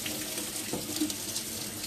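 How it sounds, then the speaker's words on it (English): A chopping board being rinsed under a running kitchen tap, with a steady splashing stream of water hitting the board and sink, close and moderately quiet. "I'm actually going to give it a quick wash."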